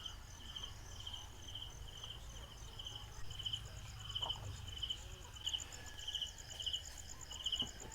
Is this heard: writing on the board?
no